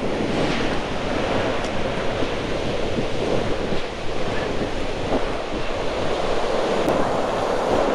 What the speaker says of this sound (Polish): Słoneczko, wiatr lub morza, szum fal.